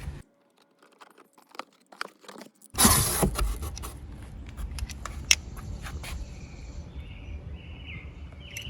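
A Craftsman utility knife slicing open a cardboard box holding a pocket hose: soft scattered ticks and handling noises first, then a sharp tearing, scraping burst of cardboard, followed by crinkling and rustling up close.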